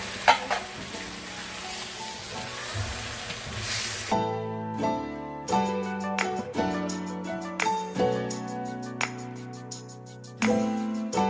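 Chicken with coriander sizzles in a pan as it is stirred, giving a loud steady frying hiss broken by repeated scraping strokes of the utensil and clinks, close up and with no talk.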